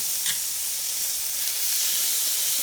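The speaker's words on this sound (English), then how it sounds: "now that the oil is hot, we're going to go ahead and sear off the oxtail" Pieces of oxtail for Jamaican curry oxtail sear in hot oil in a pot, giving a close, constant, bright sizzle with a steamy hiss and occasional small pops, with no talking over it.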